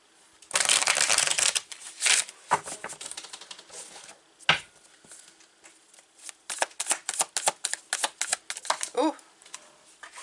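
A deck of oracle cards is shuffled by hand in quick, crisp riffles and flicks, in a long burst and then a run of rapid snaps, close and fairly quiet.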